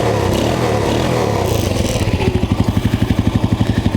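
A Honda Supra motorcycle engine, recently overhauled with Daytona clutch plates and original bearings, running close by. It is first a rough, steady hum, then settles into a pronounced pulsing, rhythmic chug, with no speech.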